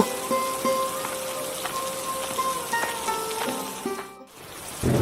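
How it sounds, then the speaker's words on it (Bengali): Heavy cartoon-style rain pours down in a continuous, dense hiss of drops striking surfaces. Faint tonal music runs underneath, and the sound briefly dips near the end before returning. "সেই সকাল থেকে মুষলধারে বৃষ্টি নামছে"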